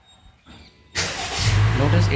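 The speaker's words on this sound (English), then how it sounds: "Notice it starts the engine." A Honda City's engine starts by remote command: a quiet stretch, then an abrupt rise into a steady idle hum that builds and settles over the last second, close by, with the air conditioning switching on.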